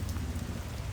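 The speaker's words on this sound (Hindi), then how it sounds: "बारिश हो रही है काफ़ी ठीक ठाक तरीके से।" Heavy rain falls steadily outdoors, a dense, close hiss of drops pattering on surfaces with no pauses and no voices.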